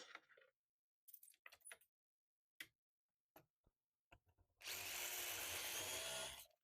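A power drill with a 10 mm bit bores a hole about 12 mm deep into a wall for a fixing. Scattered clicks and handling knocks come first, then a loud, steady drilling whine lasts nearly two seconds, close up.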